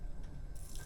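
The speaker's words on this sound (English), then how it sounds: "also a sink with working water" A tap in a sleeper train's en-suite bathroom sink runs a steady, soft stream of water, close and fairly quiet, with no voices.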